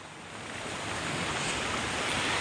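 Steady broadband rush of sea surf breaking on a shore, gradually swelling louder, with wind noise over the microphone and no voices.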